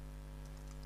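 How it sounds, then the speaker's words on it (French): Faint, quick keystrokes on a computer keyboard as someone types a command, a few light clicks in the second half over a steady low electrical hum. "Il suffit de taper ipconfig/all."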